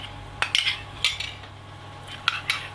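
A spoon stirs baking soda into boiling water in a pot, giving a few sharp metallic clinks and scrapes against the sides over a steady low background hum.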